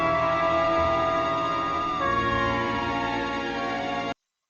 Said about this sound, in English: it was ages before the wail of sirens filled the air